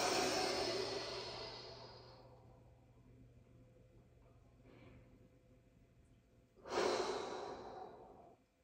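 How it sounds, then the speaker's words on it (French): Breath is pushed out through the mouth during a forward-bending stretch: a long, soft exhale fading over two seconds, a faint short breath, then another stronger breath out near the end, close and quiet with no talking. "Expire, bouche."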